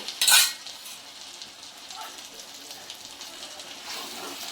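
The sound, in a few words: stirring yogurt into chicken handi masala in a pan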